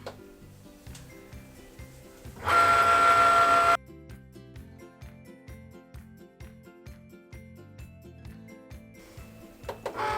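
A Cricut cutting machine slices heat transfer vinyl for gingerbread boy and girl gift tags, giving a steady run of rhythmic mechanical clicks and whirs, with one louder burst of motor noise partway through, close up with no talking.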